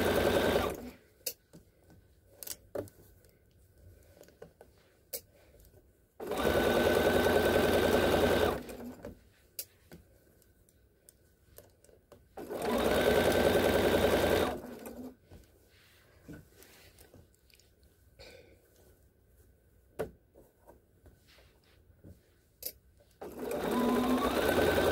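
A sewing machine stitches fabric in three loud, sustained bursts of rapid mechanical whirring, separated by quiet pauses filled with faint handling clicks and taps.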